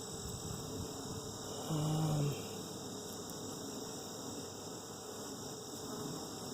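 Young honeybees crowd a frame during a hive inspection, their buzzing a steady, even hum that fills the whole stretch with no pauses.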